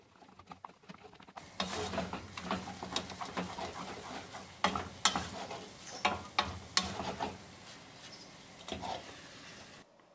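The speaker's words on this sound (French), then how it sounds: "ajoutez 125 g de farine, puis mélangez correctement jusqu'à l'obtention d'une pâte lisse et qui ne colle plus au bord" Flour is stirred into boiling choux pastry dough in a saucepan, giving a series of close, irregular wet slaps and scrapes with a soft sizzle underneath for about ten seconds.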